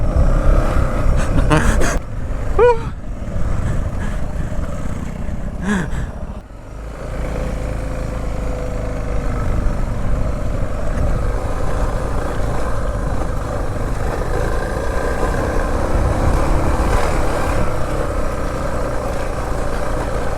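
An off-road vehicle's engine rumbles steadily and loudly throughout a long weekend trail ride, with a couple of brief sharper bursts early on and constant wind-like noise over the drone.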